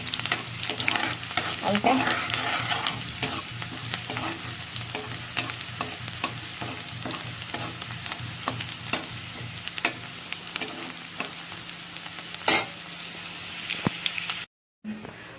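Onions frying in a pan while being stirred for a potato and pointed gourd curry, with a dense crackling sizzle and repeated spatula scrapes and taps close by; a voice briefly speaks near the end.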